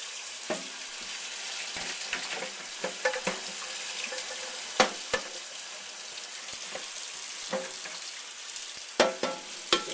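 Water runs steadily from a tap into a sink, with scattered clinks and splashes of dishes throughout.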